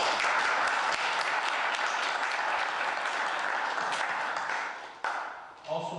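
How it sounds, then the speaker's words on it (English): An audience at a town meeting in Homer Glen applauds Tender Loving Care, with steady clapping that holds for several seconds before tapering off and giving way to a voice. "So an applause for Tender Loving Care."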